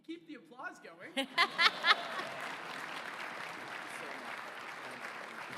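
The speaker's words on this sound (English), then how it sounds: "Keep the applause going." Audience applause for the winner of a startup pitch competition showcase, starting after a few sharp claps and voices, then settling into a steady, moderately loud wash of clapping that continues evenly to the end.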